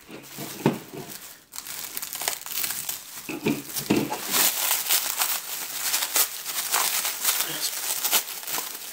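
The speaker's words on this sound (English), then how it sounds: "Blue plastic wrap." Blue plastic wrap crinkles and crackles near and loud in bursts of rustling, handled continuously for several seconds while unboxing a parcel.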